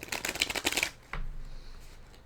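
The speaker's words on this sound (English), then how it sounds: "So I'm going to go ahead and take out one last card and close out the reading." A tarot card slides out of a shuffled deck, a quick papery rustle of card against card in a close, soft burst, then a fainter brushing as it settles.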